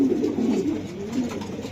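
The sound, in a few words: pigeons cooing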